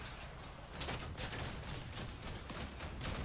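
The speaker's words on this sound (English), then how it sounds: "can we, like, actually shoot off the guns?" Guns blasting away in the Crossout vehicle combat game, a dense, continuous barrage of overlapping shots and explosions at steady high volume with no pause across the whole stretch.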